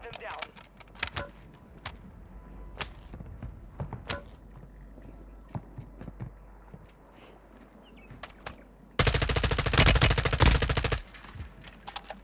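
MP5 submachine gun in Warzone 2 gameplay: scattered sharp shots and impacts, then a loud, sustained automatic burst lasting about two seconds near the end, with game background noise throughout.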